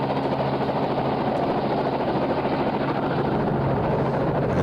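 A helicopter flies over an airsoft event, a loud, steady rotor and engine roar with a constant droning hum that fills the whole stretch without any break or talk.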